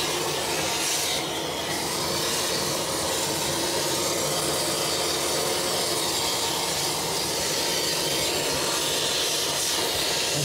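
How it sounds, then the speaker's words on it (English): A BISSELL Little Green HydroSteam carpet cleaner releases continuous steam, a steady close hiss with scrubbing and rubbing texture running unbroken for about ten seconds. "And it's got continuous steam the whole time."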